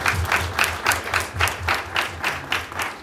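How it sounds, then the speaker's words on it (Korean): A church congregation at a retreat claps in unison, a loud rhythmic beat of about two claps per second sustained for three seconds, reverberant in a hall. "우리 모두 함께 하나님께 영광의 박수를 올려드리면서"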